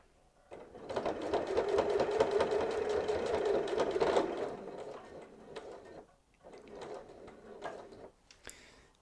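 A sewing machine stitches fabric in two runs, a long rapid mechanical whirr for about four seconds, a pause, then a shorter burst, close and fairly quiet, with no voices.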